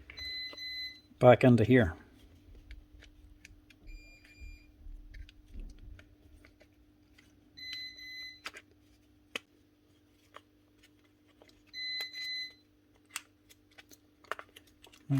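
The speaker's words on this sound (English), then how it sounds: "Maybe the alarm's going off over here." An electronic alarm beeping in a workshop during repair of a Bosch GDX 18V-EC impact driver, short paired high tones repeating every few seconds, fairly faint, with a man's speech and handling noises.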